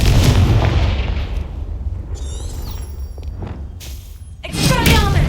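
Confringo spell explosion in Hogwarts Legacy, with heavy booming blasts at the start and again near the end and crackling magical bursts between them, loud and close.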